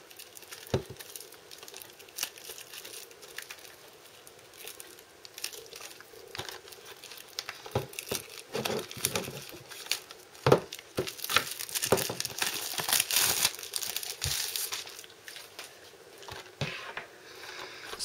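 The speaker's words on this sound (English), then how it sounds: "So now that we've taken the cellophane off" Cellophane wrapping crinkles and tears as it comes off a Fairy Tail Blu-ray and DVD combo case, with irregular close rustles and crackles that grow busier midway, with no talk.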